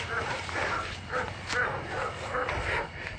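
Dogs barking and yelping in short bursts through a tense nighttime search, several mid-distance barks over steady background hiss.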